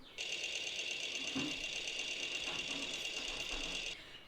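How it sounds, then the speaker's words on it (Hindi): A sewing machine runs continuously for about four seconds, a fast, even, high-pitched whirring with a close mechanical rattle that starts and stops abruptly. "सिलाई मशीन की ठर ठर ठक भी हो सकती है"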